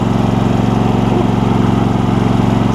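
A John Deere E140 lawn tractor with a Briggs and Stratton engine idles steadily and a little low, a loud, even, close chugging drone that runs without a break.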